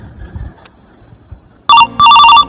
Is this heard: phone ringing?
yes